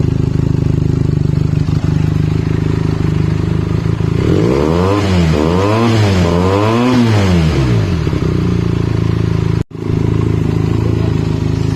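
Loud Benelli TNT 300 motorcycle engine with an IXIL X60 aftermarket exhaust idling, then revved repeatedly in rising and falling waves before settling back to a rumbling idle.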